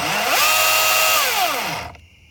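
A Milwaukee 18 volt battery chainsaw: a loud electric motor winds up to a high steady whine, holds briefly, then spins down and cuts off, with no talking.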